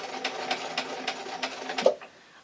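A sewing machine stitching a fabric book jacket case for a tablet, running in a quick even burst of close needle thumps that stops abruptly, followed by near silence.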